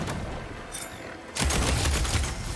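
Weapon fire in the video game Horizon Forbidden West, a quick burst of rapid shots, loud and close, breaking in after a quieter moment and continuing as a dense volley.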